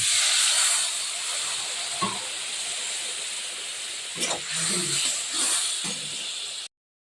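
Water splashed into spice paste frying in a pan, a loud steady hiss of steam and sizzle with a few scraping stirs, cutting off abruptly near the end.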